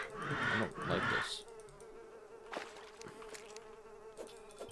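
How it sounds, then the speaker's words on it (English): Bees buzzing in the video game Terraria, a thin steady drone running through the whole stretch with brief louder bursts near the start, fairly quiet and with no talk over it. "I hear bees."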